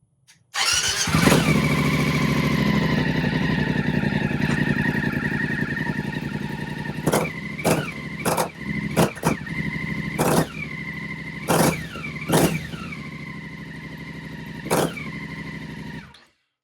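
A BMW F750GS motorcycle with a Dominator resonator delete starts and idles loudly and close, then is revved in a series of sharp blips that drop back to idle.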